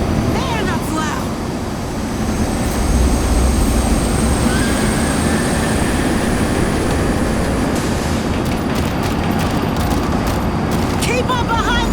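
A train rolls along in a video game with a loud, continuous rumbling drone and scattered metallic clanks, while voices call out over it.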